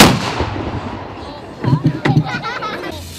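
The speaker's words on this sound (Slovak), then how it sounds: "Pozor! Strieľam!" A single loud blast from a historical reenactment firearm opens with a sharp crack and fading echo, followed by excited shouting voices of children and adults.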